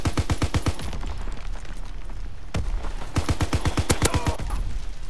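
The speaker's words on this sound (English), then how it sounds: "But so far I kind of like this LMG." MG 81 light machine gun firing in Call of Duty WW2, loud rapid bursts of evenly spaced shots, one long burst, a pause, then another sustained burst, close and dominant over game background.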